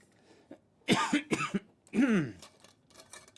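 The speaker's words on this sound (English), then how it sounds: "Now I'm going to have a lingering cough for a week." A person coughs several times in two harsh bursts, close and fairly loud, with a quiet pause between them.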